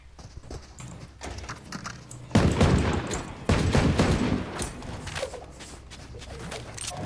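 Rapid Gatling gun fire from the game Valorant bursts out loud and dense for about two seconds mid-clip, over a steady background of in-game noise.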